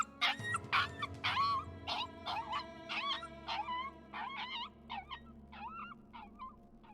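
A dog in the Tiny Bunny game squeals and yelps after being kicked, a rapid string of high, pained cries that gradually weaken and slow over a low background hum.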